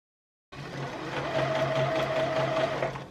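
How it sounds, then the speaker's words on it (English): Sewing machine stitching the side seams of a shirred dress, starting abruptly after a moment of silence and then running as a steady whirring motor hum with a rapid needle clatter, close and without speech. "So here I am joining the side seams."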